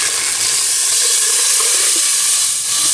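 Pieces of veal browning in a pot for a veal and green bean tajine, giving off a loud, continuous close-up sizzle with a steady frying hiss and no voices.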